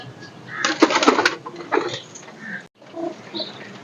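Bajrai pigeons cooing and calling close by in a loft, a burst of throaty coos and flutter-like sounds followed by quieter intermittent calls.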